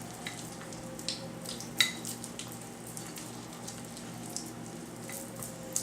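Soft, close scraping and squishing as a cheese mixture is stirred and folded in a bowl, with a light clink of a utensil against the side and no talk.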